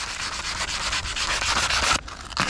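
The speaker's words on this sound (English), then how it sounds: "I'm going to give that a quick sand down, just to get it nice and smooth and honest" Sandpaper rubs a boat jib surface smooth in quick, rhythmic back-and-forth strokes, close and scratchy, with a short pause before the strokes resume.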